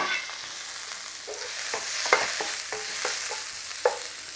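Peppers hit hot oil in a scorching pan, giving a continuous close sizzle with a series of short scraping, stirring knocks as they are moved around.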